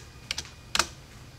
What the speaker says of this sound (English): my keyboard is not cooperating today